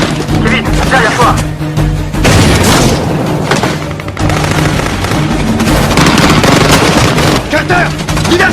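A grenade blast in a French action film, a loud booming burst amid a dense soundtrack of gunfire and music, with voices shouting over the chaos.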